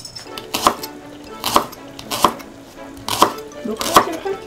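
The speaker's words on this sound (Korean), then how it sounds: "너 칼질 할 줄 알았네." A knife chopping food on a cutting board in a home kitchen, with five crisp, evenly spaced strokes, loud and close, in a quiet room without talk.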